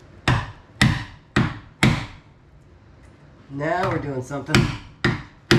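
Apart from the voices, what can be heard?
sledgehammer striking a piece of wood to flatten metal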